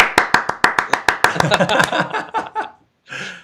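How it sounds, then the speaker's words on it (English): A round of hand claps from a single person, quick and regular at first, then looser and fading, with a short burst at the end. "I'll give you a round of applause over the internet"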